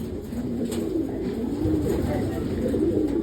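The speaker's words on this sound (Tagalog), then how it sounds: "Ito mga kalapatis oh" Racing pigeons coo softly inside a loft, low repeated throaty calls close by, with a person's voice talking quietly beneath them.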